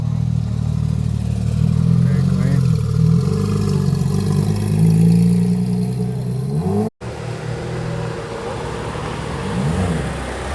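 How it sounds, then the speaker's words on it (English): A Porsche 911 ST pulls up at Monterey Car Week, its engine note loud and close with a rising rev, then easing off after a brief dropout, with people talking over it. "And then 911 ST pulling up."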